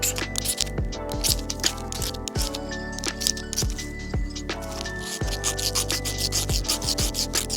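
Repeated rough scraping strokes as shavings are scraped off a fire starter rod, a run of close, rhythmic rasping passes with sharp bursts between them.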